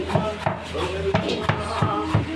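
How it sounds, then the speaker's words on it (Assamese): A knife chops cabbage on a wooden board in a steady rhythm of about eight crisp knocks, close and fairly loud, while a person talks over it. "চাওক গাইজ কি মজা স্টাইল কাটিছে কেবেজ আমার পঙ্কজ দা"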